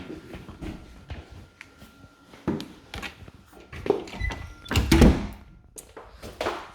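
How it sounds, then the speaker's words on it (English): A kitchen door in a house on Canley Road swings open and shut, giving scattered thuds and knocks with a louder bang near the end, set amid faint shuffling and handling noise. "So the door open and close is fine."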